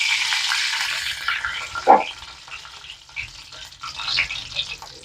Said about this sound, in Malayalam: അപ്പൊ എണ്ണ തിളച്ചിട്ടുണ്ട് അതിലേക്ക് കുറച്ച് കടുക് ഇടാം